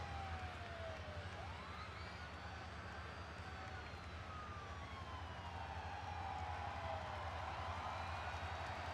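An ambulance siren wails in WWE 2K24 as the vehicle drives down for an ambulance match. The siren rises and falls repeatedly with sweeping pitch, layered over a dense, steady arena roar.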